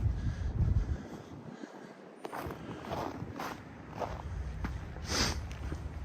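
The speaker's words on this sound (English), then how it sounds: "when the wind finds you right on this corner, which it always does around taller buildings" Cold December wind gusts around a street corner among taller buildings in Regina, blustering against the microphone in uneven surges with rustling and footsteps, close and fairly loud, no talk.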